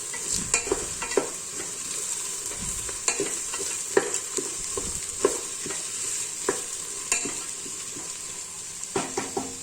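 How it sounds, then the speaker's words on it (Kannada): Bay leaf, chopped onion and green chillies fry for veg pulao in a pan, a constant near sizzle broken by frequent sharp spatula scrapes and clinks against the metal as they are stirred. "ಪಲಾವೆಲೆ ಮತ್ತು ಹಚ್ಚಿಟ್ಕೊಂಡಿರುವಂಥ ಈರುಳ್ಳಿ ಮತ್ತು ಹಸಿರು ಮೆಣಸಿನ್ಕಾಯಿನ ಹಾಕಿ ನೀಟಾಗಿ ಒಂದು 5ರಿಂದ 6 ನಿಮಿಷ ಫ್ರೈ ಮಾಡ್ಕೊಳ್ಳೋಣ."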